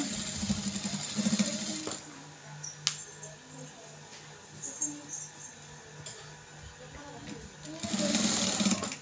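A sewing machine stitches a blouse during a tailoring lesson, running in steady bursts near the start and again loudly at the end, with someone talking between runs.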